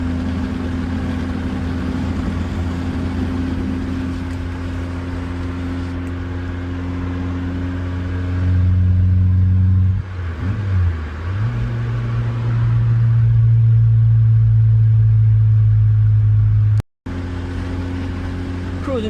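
A car drives through city streets, its engine a steady mid-pitched drone that swells into a louder, rising rev partway through and stays strong before settling. No one speaks.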